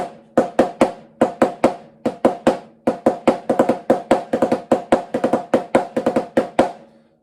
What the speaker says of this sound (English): just a diddled 16th note, but it would sound like this